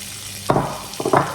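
Onions and green chili hit a hot pan with a little oil spray, two sharp sizzling bursts with faint stirring clatter in between.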